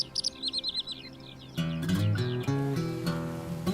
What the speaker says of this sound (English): Can you hear that? Skylark.